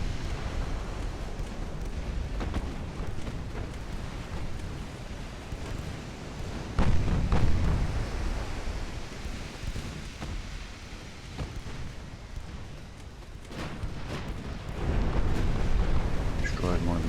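Naval gunfire and shell hits in the warship game Ultimate Admiral: Dreadnoughts, deep rumbling booms rolling over a continuous low roar, with a few sharper impacts standing out, mostly heavy and distant-sounding.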